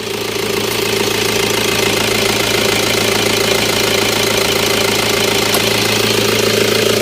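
A Toyota Vigo Champ pickup's 2.5-litre D4D diesel engine idles steadily up close, a constant rough drone with a faint knocking clatter that holds at even loudness throughout.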